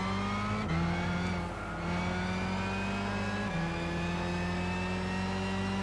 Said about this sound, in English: Look how quick it accelerates.